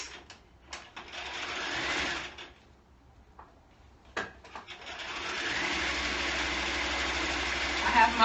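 A sewing machine stitching through a coat lining runs in bursts, a short whirring run early, then a steady sustained run through the second half, with brief pauses and clicks between.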